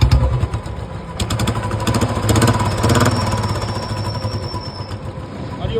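A freshly rebuilt UCE-model Bullet motorcycle engine runs close by with a loud, rapid, uneven thumping beat that swells briefly as it is revved.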